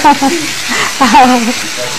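Boneless chicken sizzles and fries in a pan with stirring, a close crackling hiss under a person speaking.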